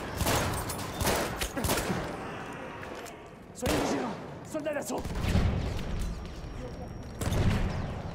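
Battlefield 1 battlefield gunfire with several sharp, heavy shots and booms at intervals, moderately loud against ongoing combat noise, with a voice talking in between.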